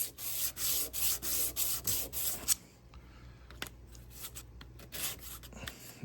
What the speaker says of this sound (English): file them flat. I also will file both sides, sand both sides.